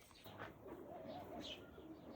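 A pigeon coos softly at a distance, a low murmuring call over a faint ambient background.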